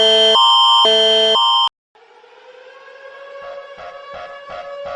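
An Argentine emergency alert system alarm blares loud, harsh electronic tones in three rapid pulses, then pauses and shifts into a rising, wailing siren tone with regular pulsing that builds in loudness.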